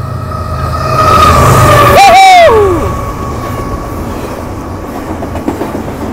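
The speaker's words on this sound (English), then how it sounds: "A BNSF Intermodal stacker train." A BNSF intermodal double-stack freight train rolls past up close at Richmond Amtrak Station, California, with a loud, steady rumble and a sharp squealing screech, then fades into a quieter rattle.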